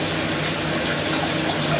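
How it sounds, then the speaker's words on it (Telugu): Water pours steadily into a cooking pan while pepper rasam is being made, a close, even rushing gush that holds at constant loudness for under two seconds with no talking. "ఇప్పుడు మనం కొంచెం వాటర్ వేసుకోవాలి"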